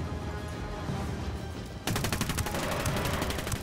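Rapid bursts of gunfire ring out in a first-person video game set in a jungle while hunting the Predator, a dense, loud volley that sharpens into crisp repeated shots partway through, with no talking.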